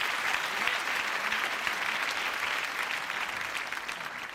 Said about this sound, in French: Applaudissements, Tano.